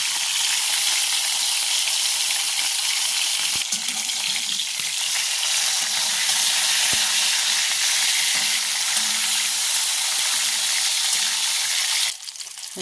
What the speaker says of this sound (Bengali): কড়াইয়ে সরষের তেল গরম করে নুন হলুদ মাখিয়ে রাখা মাছগুলোকে এবার আমি ভেজে নেব।